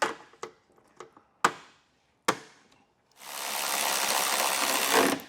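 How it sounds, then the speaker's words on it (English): A torque wrench tightening trailer hitch bolts: several sharp, isolated metallic clicks and knocks spaced apart, followed by a long, steady rough whirring burst lasting about two seconds, close and moderately loud. "go back with your torque wrench and get them all torqued down"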